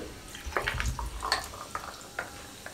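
Lemon-lime soda poured into a glass of Blue Curacao lemonade, giving soft fizzing and splashing with scattered bubbly crackles, close and fairly quiet, with no talking.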